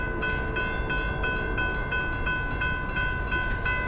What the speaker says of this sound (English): Give me a horn show. Lay on it.